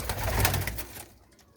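Pigeons nesting near their eggs and chicks give a brief, soft low coo that fades away, close by and quiet with no talk over it.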